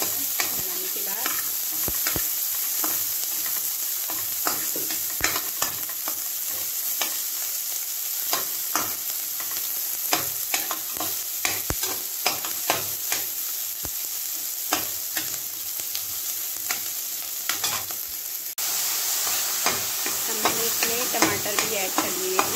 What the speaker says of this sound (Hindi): अब हम इसमें प्याज ऐड करेंगे जख्या का तड़का बनाने के बाद।